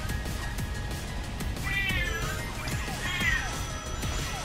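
A pet cat meows twice in quick succession, the calls rising and falling, over a constant background of game sound and low room noise.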